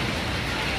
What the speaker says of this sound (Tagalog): Pero ang problema nga sobrang lakas ng ulan simula kaninang umaga hanggang ngayon.